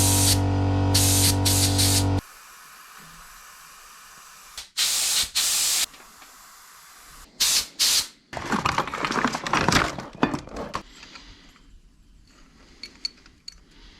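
Several bursts of hissing spray from a paint spray gun, some long and some short, loud and close with quiet gaps between them.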